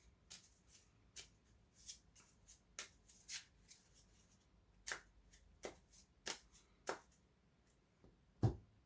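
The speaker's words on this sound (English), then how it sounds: "So we'll go ahead and shuffle these discards into the enemy deck." Board game cards from Stilicho: Last of the Romans being shuffled into an enemy deck, a close, quiet series of crisp card riffles and taps spaced irregularly over several seconds, ending with one louder knock.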